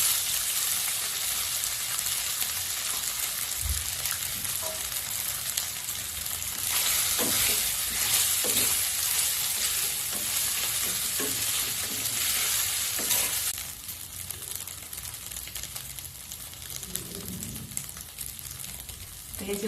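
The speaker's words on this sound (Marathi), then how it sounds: "थोडे जिरे टाकायचे. आणि थोडेसे तेल टाकायचे आणि हा नाश्ता आपला टाकून द्यायचा." Leftover rice frying in a pan with cumin and a little oil, a long, steady, close sizzle with scattered pops, easing slightly quieter toward the end.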